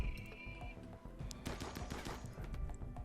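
Shotguns fire in a RimWorld battle, a rapid flurry of overlapping shots and bursts that grows denser after the first second. The gunfire is fairly faint, with no talk over it.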